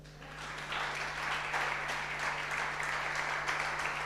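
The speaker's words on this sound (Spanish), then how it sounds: "¿Podés darle un aplauso?" Congregation applause in a church during a sermon, a steady wash of clapping that swells after a quiet start and holds fairly distant and moderate over a low constant hum, with no talk.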